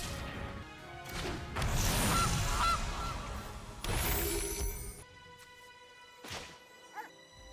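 Honking of the Gilded Goose card in the video game MTG Arena, brief goose-like honks amid loud card-play crashes and whooshes, followed by quieter chimes.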